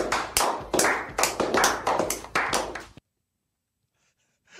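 A played applause sound effect on a podcast: loud, close bursts of clapping in quick pulses for about three seconds, then cutting off abruptly into silence.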